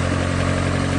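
A repaired engine runs steadily at idle, up close with a constant low throbbing hum and mechanical vibration, no voices.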